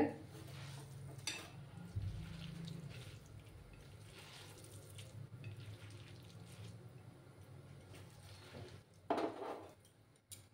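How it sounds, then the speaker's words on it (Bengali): Soaked sabudana vada mixture is kneaded by hand in a bowl, making soft, squelchy mixing sounds that are faint and close, with a few louder rustles near the end. "আমি এটা এবার হাত দিয়ে মেখে নিচ্ছি"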